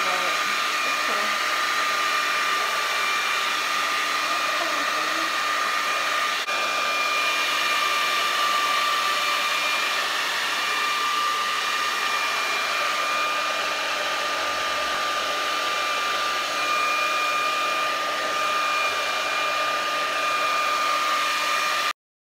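Hair dryer blowing over thick epoxy resin on a painting, a loud steady whooshing whine held continuously for over twenty seconds, with no talk.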